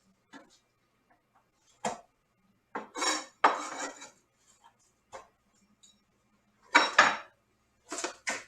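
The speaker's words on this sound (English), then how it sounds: "we're going to throw that in the pan" Sharp metallic clatters and knocks of pots and a pan sound as food for burger wraps goes into a frying pan. The bursts come in irregular clusters between stretches of near silence.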